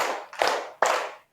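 Students in a classroom clap together on cue in a counted rhythmic pattern, two sharp unified claps separated by short pauses, each ringing briefly in the room.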